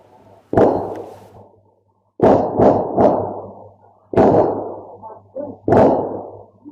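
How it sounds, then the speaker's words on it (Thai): Several sharp, loud bangs ring out in quick clusters, each with a short echoing tail, like a burst of gunfire at moderate distance, from a shootout. "นับไม่หวาดไม่ไหวเลยเพราะว่าเสียงปืนดังรัวมาก"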